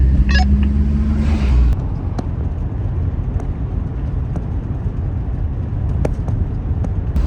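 An old blue Volvo 242, a long-abandoned 240, drives along a road, its engine and tires making a loud, steady low rumble inside the cabin, with a brief higher hiss at the start.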